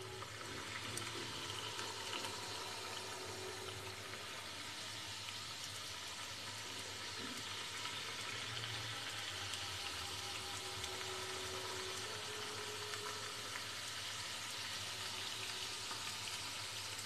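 Semolina golgappa puris fry in hot oil on a gas stove turned low, giving a steady, soft, continuous sizzle and bubbling heard up close without voices.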